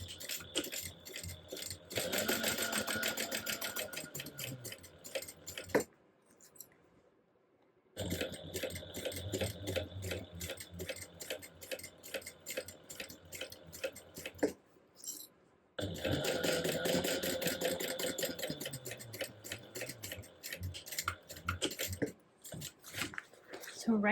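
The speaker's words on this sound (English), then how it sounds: "go ahead and top stitch that at 1/8 of an inch away" Sewing machine top stitching a crossbody bag at stitch length 5, an eighth of an inch from the edge, in long steady runs broken by two short pauses, with faint talk mixed in.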